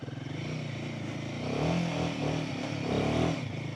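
Royal Enfield Himalayan 450 motorcycle riding off-road past puddles on slippery ground, its engine droning steadily and swelling slightly with throttle, close and continuous with faint clatter and no talk.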